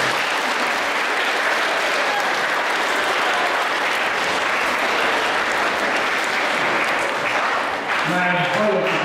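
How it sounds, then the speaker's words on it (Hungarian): A school audience applauds a visiting music school band in a dense, sustained burst of clapping that stays loud throughout, fading slightly near the end as a voice begins to speak. "Tapsoljuk meg őket!"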